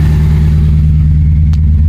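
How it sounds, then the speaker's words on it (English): A 1991 BMW 318i E30 running without a thermostat, its engine held at a steady, loud rev with a deep droning hum close by and no voices. "when I rev the engine up on this thing"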